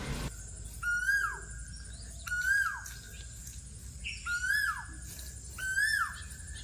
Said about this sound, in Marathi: ती कोकिळा सुद्धा होती आणि खुश होऊन मस्त गाणी बोलत होती